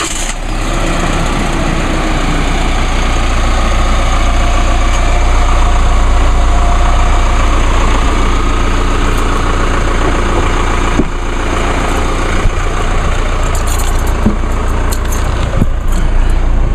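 A diesel engine runs at a steady, loud, close idle, a continuous low rumble with a constant whine and no talking.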